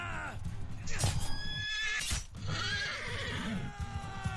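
Horses in the medieval battle game Mount & Blade 2 Bannerlord: a loud close whinny and neigh with galloping clip-clop hooves, battle din and shouting voices mixed around them.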